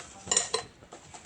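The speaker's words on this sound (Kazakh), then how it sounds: "Аз-аздан сала отырып араластырамын." A utensil stirs an egg and agar mixture in a pot, with a few light scraping clinks over about a second, close and fairly soft.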